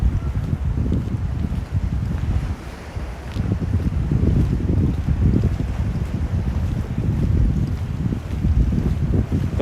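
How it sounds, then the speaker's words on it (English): Ocean waves break on shore at the edge of New York City in the early morning, a loud, rolling wash of surf with wind rumble across the microphone, steady with brief surges and no talk. "I think water breaking on land is a very peaceful sound."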